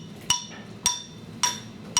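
A prototype xylophone tone bar is struck four times at an even pace, each hit a short, bright clink that dies away quickly, heard up close with no talking.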